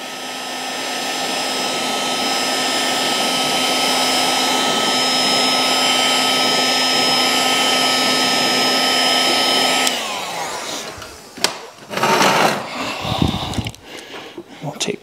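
A heat gun blows on a plastic light lens for a model aircraft, a loud, steady whooshing hum that runs for about ten seconds. It then shuts off, followed by handling noises and rustling.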